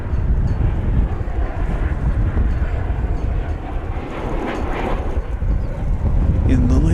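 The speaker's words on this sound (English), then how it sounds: "Alaska Airlines coming in now." An Alaska Airlines airplane comes in to land at DFW Airport, producing a distant, steady jet roar muffled by wind noise on the microphone, with a person talking over it.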